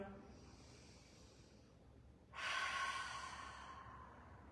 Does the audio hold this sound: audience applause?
no